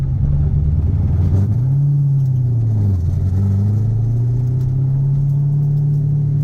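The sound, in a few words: 1977 Datsun 280Z with LS3 engine driving and shifting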